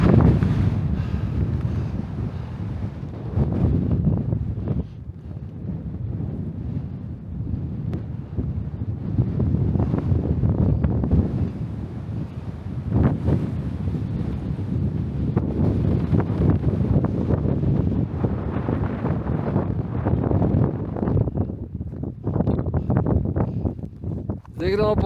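Strong, gusty wind buffets the microphone on the summit of the Vogel ridge in the Julian mountains. It makes a loud, continuous rumbling roar for the whole stretch, with voices talking underneath.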